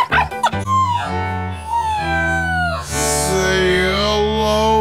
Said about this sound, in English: Say hello to your new puppy!